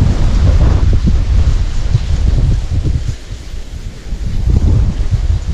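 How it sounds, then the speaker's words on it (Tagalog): Rain begins falling beside a rice paddy during irrigation, with a steady low rumble of thunder and strong wind buffeting the microphone throughout, the noise dipping briefly near the middle before swelling again. "Ayan na po ang ulan."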